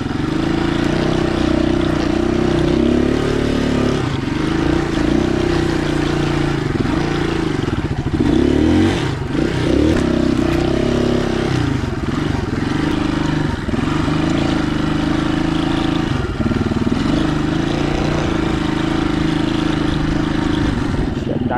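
An XLR200 motorcycle's engine runs steadily on a muddy rural track, a loud, close throb that rises and dips with small throttle changes and clatters now and then.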